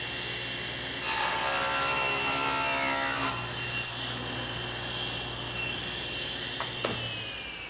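A table saw cross cuts wood using a miter gauge: a loud whining blade cuts through for about two seconds, then the motor hums and winds down.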